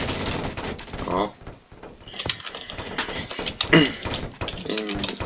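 Shotgun blasts ring out in Garry's Mod, several sharp reports scattered among other game noise, with a person's brief exclamation and talk over the action.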